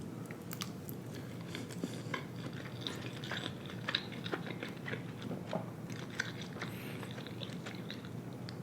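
Close, soft chewing and biting of shrimp tempura and avocado sushi, with faint wet crunches and mouth sounds repeating steadily throughout, no talking.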